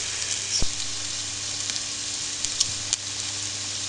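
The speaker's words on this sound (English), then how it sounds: "the garlic's in there, and the onions are cooking up" Garlic and onions sizzling in a pan for a pasta bake, a steady, close frying hiss with a few sharp pops and crackles, no voices over it.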